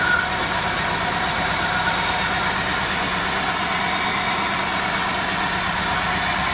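2004 Jeep Grand engine running rough and shaking, a loud, close, steady idle rumble with a pulsing, uneven vibration and no voices.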